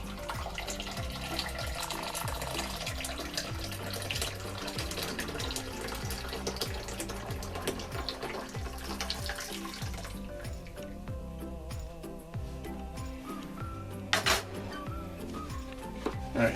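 Warm whey pours steadily off freshly made homemade ricotta curds, a continuous close splashing trickle of liquid draining into a bowl, with a brief sharper clink near the end and no voices.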